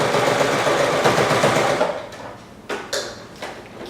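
A sewing machine stitches a patchwork cushion in a steady loud whirring run for about two seconds, then stops, followed by a few soft clicks and fabric handling close by.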